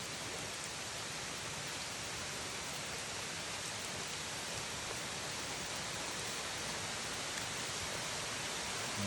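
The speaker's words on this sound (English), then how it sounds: "all of a sudden, rain, and lots of it" Sudden heavy rain pours down on the Appalachian Trail, a dense, steady, loud hiss of falling water that fills the whole stretch without a break and without voices.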